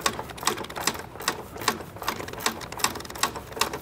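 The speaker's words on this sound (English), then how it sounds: "I have one hand on the bottom of the shock while I remove the last 13 millimeter bolt" A 13 mm bolt being worked off the rear shock of a 2006-2013 R56 MINI Cooper S, close, rapid rhythmic ratchet clicks in quick even bursts with no talk.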